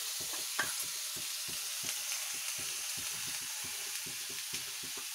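Crab stirred with melted butter in a pan for a cheesy garlic dish gives a steady, soft frying sizzle, with a regular run of light scraping stirring strokes repeating through it, close and fairly quiet.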